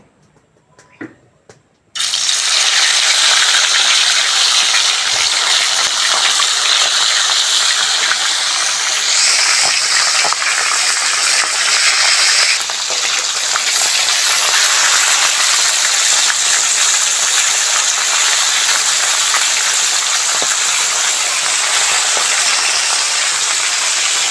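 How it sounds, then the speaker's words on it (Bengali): Sea fish frying in hot mustard oil in a kadai, a loud steady hiss and crackle that starts abruptly after a couple of seconds of quiet and keeps going close up with no talk. "তেল ভালোভাবে গরম হয়ে গেছে, এবার মাছগুলো ভেজে নেব।"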